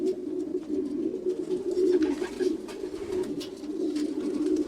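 A racing pigeon coos steadily in a low, throaty rolling murmur, close and continuous, with faint background rustle and no talk.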